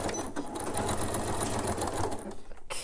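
A sewing machine stitches the bottom edge of a purse, a close, continuous rapid mechanical whirring and clatter that stops abruptly at the end.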